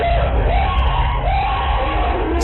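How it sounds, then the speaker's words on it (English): A group of cleaners inside a hoarder's house yelling and screaming together, loud and continuous with overlapping voices. "This video was taken just moments before they all started to scream."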